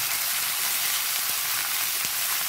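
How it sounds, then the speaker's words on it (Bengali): Malabar spinach stalks with eggplant and pumpkin, seasoned with salt and turmeric, sizzle loudly and continuously in hot oil, a close dense hiss with faint pops and no talking. "ভাজতে দিই,"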